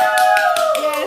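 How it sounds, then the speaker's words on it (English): Conference attendees in Austin, Texas clap in a quick, regular rhythm, a handful of crisp claps heard over loud sustained music with strong tones. "Can we give them a round of applause?"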